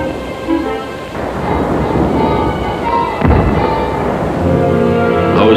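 German artillery fires from hilltops near Salerno in 1943, heard in an old war film soundtrack: booming blasts and a sharp thump mid-clip over dense rumbling noise and orchestral music.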